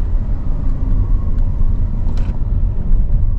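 Steady car traffic rolls past on a quiet road, a continuous low engine and tire rumble with brief passing swells, fairly close and without talk.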